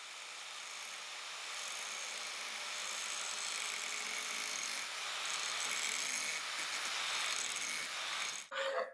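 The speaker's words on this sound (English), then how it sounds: "I'm going to get the grinder and I'm going to grind this edge here to get back to good material" A grinder works along the edge of a hedge trimmer blade, giving a steady, fairly loud broadband grinding rasp for about eight seconds before it cuts off abruptly at the end.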